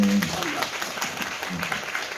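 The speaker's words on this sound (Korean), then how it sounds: "박수 주셔도 됩니다" An audience applauds at a curtain-call stage greeting after a performance of the Korean musical Pungwolju: sustained, dense clapping fills the theater for the whole stretch.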